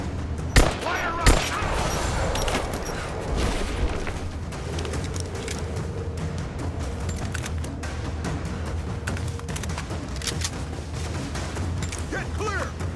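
Gunfire fills a combat scene in the Rise of the Tomb Raider video game: two sharp, loud shots at the start give way to a continuous rattle of distant firing, with voices shouting under it.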